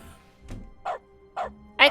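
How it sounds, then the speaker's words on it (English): In Dog mode of The Stanley Parable: Ultra Deluxe, clicking sets off short, separate dog barks, three or four close, loud woofs spaced roughly evenly, the last one loudest, with no talk over them. "I click and everything barks now."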